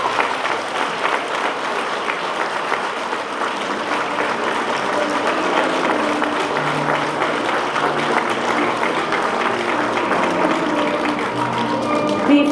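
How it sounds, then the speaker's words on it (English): Sustained applause from a crowd at a 2023 high school graduation ceremony, honouring faculty and staff, with steady dense clapping throughout and no voices over it. "A warm round of applause for the faculty and staff of the St. Demetrios School System."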